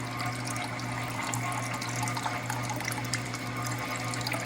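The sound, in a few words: coolant pump pumping water for Fusor cooling lines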